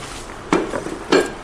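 A small metal sizzler pan among catering serving ware is handled, producing two distinct, close metallic clanks about half a second apart against a quiet background.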